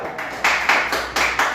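Church congregation clapping loudly after a service, a burst of rhythmic applause with regular strong beats swelling from many hands in a resonant room.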